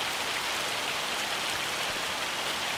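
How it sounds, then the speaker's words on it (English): Hail pelting down steadily in the video game Farming Simulator 25, a dense, even broadband hiss of impacts with no breaks, fairly loud and alone. "And it's hailing again."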